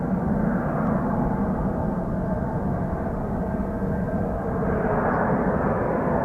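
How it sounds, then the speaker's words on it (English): An F-35B stealth jet rolls slowly into takeoff with a steady, loud broadband engine roar that holds constant and swells slightly near the end, with no voices. "Well, this is a very slow takeoff."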